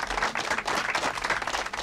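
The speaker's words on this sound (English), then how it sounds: "I need more hand claps" Dense, continuous hand clapping fills the space like a round of applause, steady and fairly loud throughout with no voices over it.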